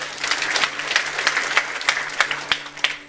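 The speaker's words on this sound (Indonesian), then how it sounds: "Beri tepuk tangan." Church congregation applauding during a Sunday worship service, a steady wash of many hands clapping with scattered sharper claps standing out, moderately loud and continuous throughout.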